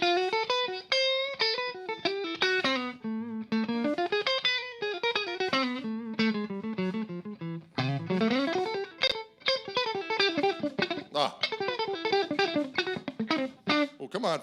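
A Reverend Gristle ST electric guitar in Avocado Burst played through its neck pickup with effects and light distortion, a continuous run of fast melodic licks and bends, close and loud, with no talking.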